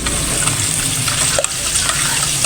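Cornstarch sauce for escabeche tilapia being stirred in a pan, a steady wet swishing and light bubbling texture with a faint clink partway through.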